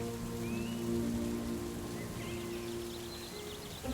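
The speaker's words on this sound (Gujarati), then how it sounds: "સામે સરજુ વરસાદ આવવાની નાચી નાચીને ખુશી મનાવી રહી છે." Steady rain falls in an animated moral story, a soft, even hiss of drops on surfaces that carries on evenly throughout, with a faint bird chirp or two in the background.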